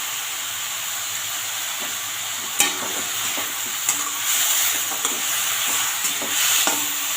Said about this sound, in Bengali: লাউটা সুন্দর করে একটু ভাজা ভাজা করে নেব